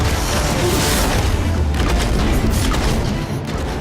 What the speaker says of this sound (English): It launches explosive chemical bombs that can bounce off terrain for impressive area of effect damage.